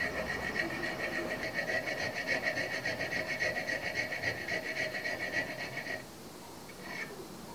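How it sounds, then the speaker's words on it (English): Small round file cutting notches into the spine of an EDC knife blade, a steady rhythmic rasping scrape that stops near the end, leaving only faint background noise. "I establish the position of each individual notch with a small triangular jeweler's file, then file it in with a small round file"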